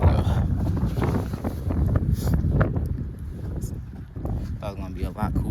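Gusty wind buffets the microphone on an outdoor nature trail, a steady rumbling roar with light rustling, while a person speaks over it.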